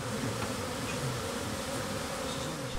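Dense, steady buzzing of many honeybees around hives at an apiary of about 300 hives in Manas, Dagestan, close and continuous with no talk.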